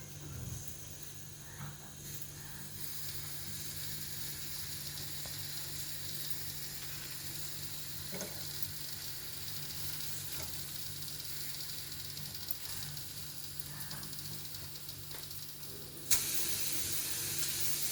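A small spoonful of oil heating in a pan while cooking mint chutney gives a steady, low hiss that holds evenly throughout, then flares louder and brighter near the end.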